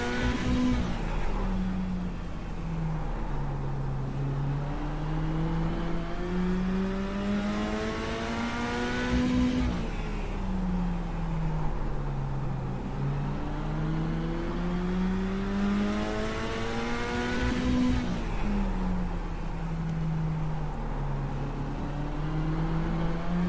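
A mini stock race car engine revs continuously from inside the car, its pitch climbing and falling in repeated cycles of about eight seconds, loud and steady with no talk.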